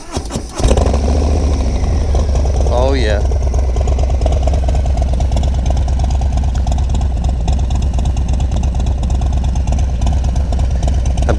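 A motorcycle fitted with a Bassani exhaust cranks and fires up, then settles into a loud, close, rapid idle throb. A voice briefly comes in over it.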